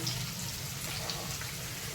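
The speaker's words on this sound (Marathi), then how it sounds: "यामध्ये थोडं पाणी घातले" Water poured into a pot of green peas, a steady close gush of running liquid at an even level for a couple of seconds.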